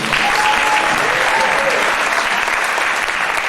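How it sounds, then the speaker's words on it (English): Audience applause at a fall concert by a university Middle East music ensemble, steady dense clapping from a crowd throughout, with a faint voice briefly audible under it near the start. "give these folks an applause here"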